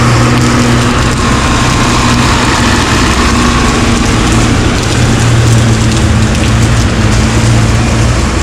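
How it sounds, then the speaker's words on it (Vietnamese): Heavy rain pours steadily onto a flooded street on Vo Nguyen Giap road in Dien Bien Phu, a dense continuous wash with a low engine rumble of traffic idling or passing through the water underneath. "Mới có mưa khoảng 30 phút thôi mà đã ngập thế này rồi mà"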